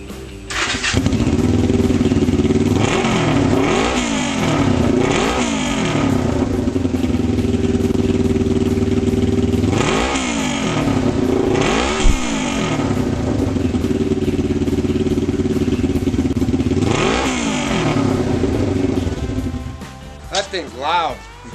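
Cafe racer motorcycle, built with a CR250 dirt bike fender and an old Triumph taillight, starts for the first time and idles loudly, with repeated throttle blips rising and falling over about twenty seconds, close by.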